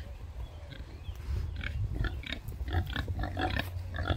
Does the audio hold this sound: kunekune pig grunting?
yes